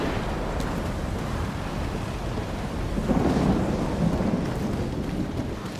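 Video game Stalker 2 thunderstorm on a wild island: dense rushing rain and wind with rolling thunder swelling midway, loud and continuous, no talking.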